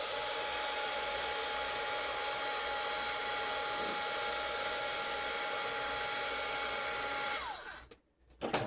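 A dryer blows steadily while drying a craft Valentine's Day card, a close, continuous whooshing hum lasting about seven seconds before it cuts off abruptly, followed by brief handling noise.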